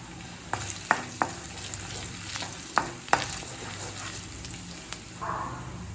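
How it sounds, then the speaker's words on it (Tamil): Mushrooms and vegetables with garlic, ginger and green chilli sizzle and crackle in a hot pan over high flame, with sharp scraping clicks of a utensil stirring at irregular intervals. "ஹை ஃப்ளேம்லேயே வச்சுட்டு 1 நிமிஷம் வரைக்கும் வதக்குனீங்கன்னா போதும்."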